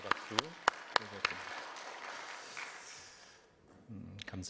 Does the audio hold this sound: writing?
no